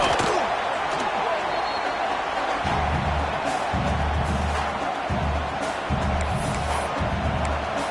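A stadium crowd roars at full volume during a football video game, a dense continuous wall of cheering with a commentator talking over it.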